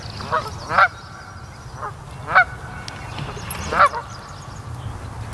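Canada geese at a lake give three loud, distinct honks spaced about a second and a half apart, with softer calls between them, against a quiet outdoor background.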